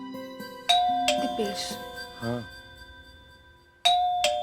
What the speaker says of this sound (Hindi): डोरबेल।